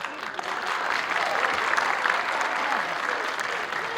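A school end-of-year show audience applauds the dancers, a thick, continuous roar of clapping that swells after a brief start and stays loud and steady throughout.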